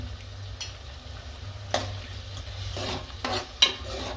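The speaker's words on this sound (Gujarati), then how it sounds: "પછી હલાવી નાખીએ એને" A spoon stirs a patarveliya tempering with chutney and melted sugar in a pan, faint sizzling under soft scraping and a few sharp clinks of metal against the pan.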